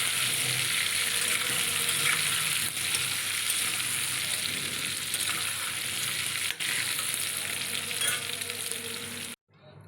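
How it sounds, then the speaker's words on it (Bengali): Potatoes fry in hot oil with a pinch of turmeric, giving a steady, dense, close sizzle that runs unbroken and then cuts off abruptly at the end. "আলুটা বেশ লালচে লালচে করে ভেজে নেব সামান্য একটু হলুদ দিয়ে দিলাম"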